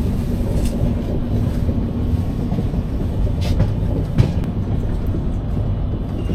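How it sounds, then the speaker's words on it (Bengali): Mithila Express (13021) rolling into Raxaul station, a steady heavy rumble of wheels and carriages heard from inside the train with a few faint clanks and one brief knock, continuous and close, no voices. "আপাতত স্টেশন ঢুকছে, 9:15 ঢোকানোর কথা ছিল, এখন 8:30 বাজে স্টেশন ঢুকছে রিক্সল।"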